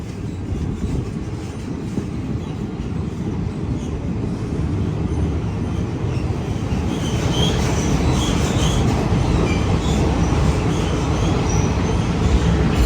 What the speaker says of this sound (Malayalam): ഇവിടെ ഹരിദ്വാറിൽ നിന്ന് ബാന്ദ്രയിലേക്ക് പോകുന്ന എക്സ്പ്രസ് ആണ്